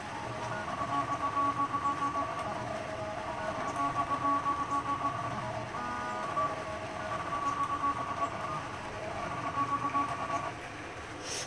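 A hobby laser cutter fitted with a blue laser runs at a moderate distance, producing a steady mechanical hum with a whining tone that starts and stops in repeated passes as the head moves.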